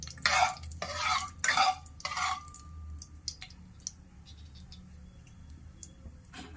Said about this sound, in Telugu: 1 టేబుల్ స్పూన్ ఆవాలు వేసిన తర్వాత ఇవి చిట్పట్లాడేంత వరకు వెయిట్ చేయండి.